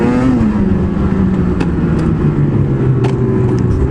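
A Ski-Doo MXZ 600 snowmobile engine drones loud and close on a trail, its pitch sliding down and then holding a steady revving buzz throughout, with no voices.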